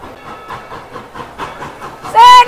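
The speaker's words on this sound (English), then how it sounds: "Here comes the train." Dollywood theme park train approaching, a brief burst of hiss and a bright whistle-like tone rising loud at the end after a stretch of murmuring background noise.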